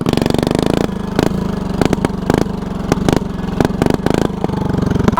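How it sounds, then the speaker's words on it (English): Lawnmower engine mounted horizontally, held at its rev limiter: a loud buzzing drone broken by rapid stuttering cut-outs in an irregular rhythm, close and alone. "I don't think lawnmower engines are supposed to have rev limiters."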